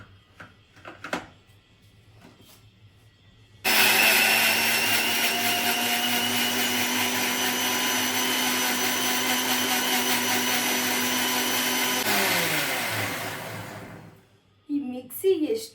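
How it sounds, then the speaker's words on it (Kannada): Mixer grinder whirring through onions, green chillies and ginger, a loud, steady high motor whine that starts abruptly, runs about ten seconds, then winds down, with speech before and after. "ಇವಾಗ ಇದನ್ನು ಗ್ರೈಂಡ್ ಮಾಡ್ಕೊಂಡ್ಬಿಡ್ತೀನಿ"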